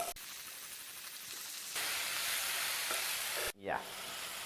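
Capsicum sizzles hard in a hot pan and is stirred, a bright continuous hiss that jumps louder partway through, then a quick scrape and clatter before the frying settles again.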